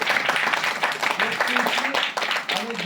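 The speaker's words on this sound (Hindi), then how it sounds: "अभी सही में ताली बज गई, सही है।" Audience applause at a student gathering at IIT Bombay, a steady wash of clapping running under a man's ongoing speech.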